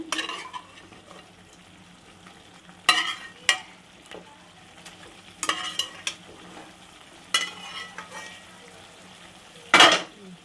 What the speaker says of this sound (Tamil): இப்போ மட்டன் பீஸை மட்டும் போடுறேன் நான்